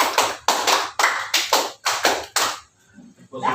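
A group claps in unison during a classroom clapping game, six sharp rounds of rapid claps in a steady rhythm, loud and close, then a softer, quieter stretch at the end.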